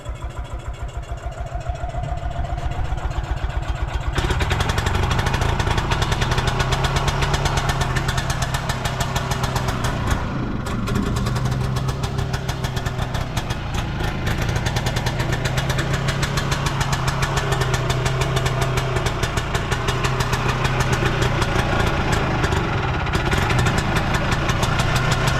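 A Nissan Pao car engine idling: a steady, close, buzzing idle with a rhythmic throb that grows fuller after the first few seconds and then runs evenly and unbroken for the rest of the stretch.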